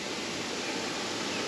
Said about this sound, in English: All these waterfalls coming through all the rocks